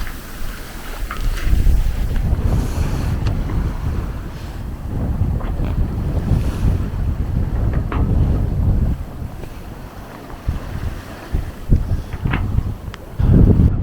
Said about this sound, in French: Il y a du vent, mais on est bien abrité.